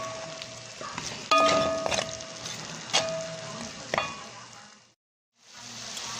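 A beef casserole mixture cooks in a pan with a soft, steady sizzle. Several sharper clinks and stirring scrapes break in, followed by a brief pause before the sizzling resumes.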